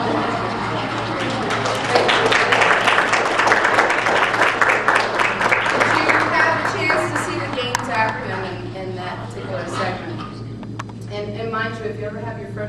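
Audience clapping fills the room at a public-speaking Table Topics session, a steady dense patter of many hands held for most of the stretch before thinning slightly near the end.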